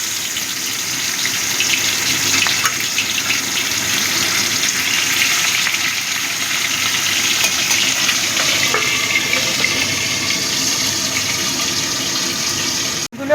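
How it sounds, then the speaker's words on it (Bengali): Pieces of katla fish fry in well-heated oil, a loud, continuous, dense sizzle that holds steady throughout with no talking. "এবার আমি মাছগুলো ভেজে নেব।"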